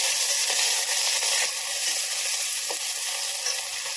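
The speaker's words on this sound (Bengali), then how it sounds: "তেলটা আমার গরম হয়ে গেছে, এর মধ্যে আমি পেঁয়াজ আর লঙ্কাটা দিয়ে দেবো।" Onion and chilli sizzling in hot oil in a pan, a loud, continuous crackling fry with faint spatters and no talking.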